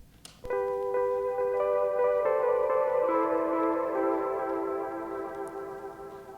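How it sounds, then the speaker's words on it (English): Stock Wurlitzer electric piano from Logic Pro X playing a few sustained chords that ring and slowly decay, clear and alone over a faint background hiss. "the first track over here is a Wurlitzer track, which is the stock Wurlitzer sound from Logic"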